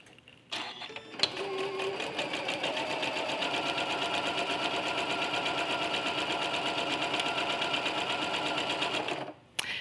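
A sewing machine basting with a long stitch length on quilting fabric: a steady, fast mechanical whirring and rapid needle clatter running continuously for about eight seconds, starting and stopping abruptly.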